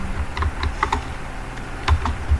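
Keys clack on a computer keyboard as a product search is typed, a quick irregular run of close, crisp taps with no voices.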